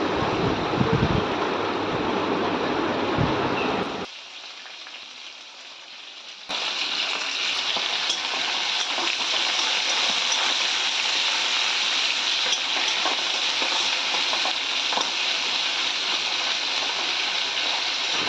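Onions fry in oil with whole spices, giving a steady close hiss of sizzling that dips briefly partway through and then returns at full strength.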